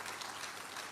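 A congregation applauding during a night praise service in church, a brief, dense burst of many hands clapping at a steady, full level.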